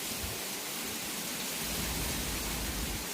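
Steady rain on a farm in Nagercoil, a dense, even hiss that thickens slightly partway through, continuous and fairly loud with no voices.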